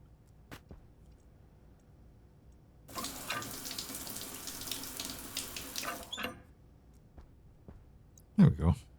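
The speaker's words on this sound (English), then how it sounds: "And if we take another shower." A running shower in the space survival game Stationeers, a steady hiss of spraying water for about three seconds, with faint ticks before it and a brief bump of noise at the end.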